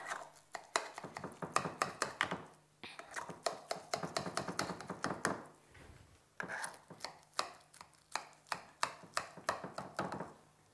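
A sharp knife slices through a portion of carrot cake with rapid, crisp chopping strikes against a board, coming in close bursts with brief pauses between.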